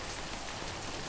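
Rain falls steadily in the video game Death Stranding, a continuous dense hiss of drops on surfaces, even and moderately loud throughout the short stretch.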